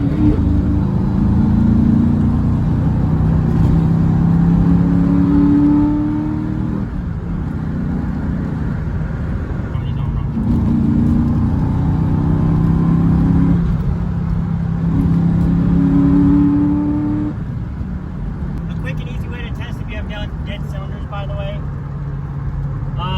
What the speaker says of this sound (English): Put the car in like the top, like your highest gear, drive a little bit slower, and then just mash the pedal down.